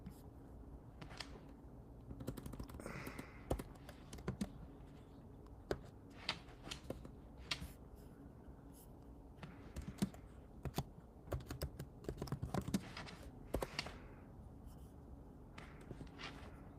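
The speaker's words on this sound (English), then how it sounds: "Type this in." Quiet computer keyboard typing, irregular clusters of soft keystroke clicks spread over the whole stretch, fairly close and faint with a low room hum beneath.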